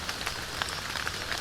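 Rain falls steadily outdoors during a wilderness survival trip, a dense even patter of drops with no talking over it.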